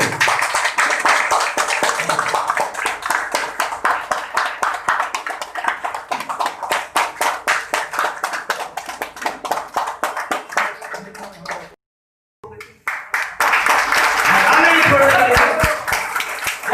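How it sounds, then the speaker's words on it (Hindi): Loud audience applause at a company team meeting in Jamshedpur, sustained rhythmic crowd clapping that breaks off briefly and then swells again into a dense roar of hands. "जोरदार ताली"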